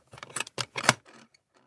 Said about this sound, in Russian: Стоило ему качнуть ключами, как запертый сундук сам собой открывался.